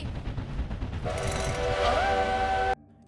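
Whistle of a steam train, pulled from the cab: a loud, sustained tonal blast that swells in, bends briefly in pitch and then cuts off abruptly, over a steady rumble of the moving train.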